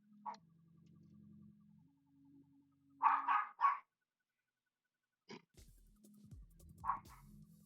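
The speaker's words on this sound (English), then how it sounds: "Apologize for my dog." A dog barks in a few sharp bursts, a double bark and a later single one, close by indoors, over a low steady hum and some rustling.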